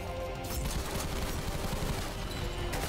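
AK rifle firing in an ULTRAKILL map in Garry's Mod, a dense continuous stream of rapid shots mixed with in-game impacts and explosions, loud and unbroken throughout.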